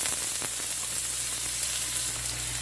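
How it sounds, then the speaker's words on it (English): Chopped onions sauté in a hot pan with a constant, close-up hiss and crackle, a bright steady sizzle holding at one level from start to end. "let's start sautéing our onions."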